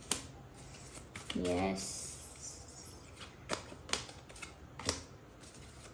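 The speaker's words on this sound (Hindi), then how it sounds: "ओके, चलिए शफल करते हैं।" Tarot cards are shuffled in a brief riffling burst, followed by a few sharp card snaps and taps, while a voice speaks softly nearby.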